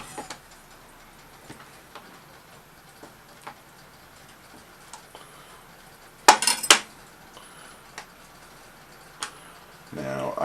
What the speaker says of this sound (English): cut my cheese into little strips like this